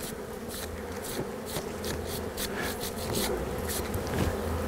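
Honey bees buzzing at an opened hive during a spring varroa mite inspection of drone brood, a dense steady swarm drone with individual bees passing close, under someone speaking Romanian.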